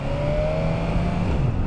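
A BMW S1000RR sport motorcycle engine climbs in pitch as it accelerates from a steady idle-like drone, a smooth rising tone heard up close for under two seconds, with no voices.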